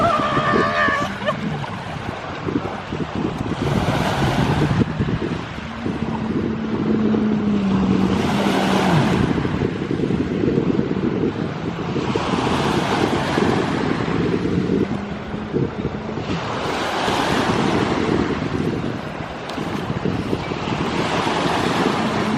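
Ocean waves break on a quiet beach in strong wind, with broad surges of surf rolling in every few seconds under constant gusty rumble and microphone buffeting.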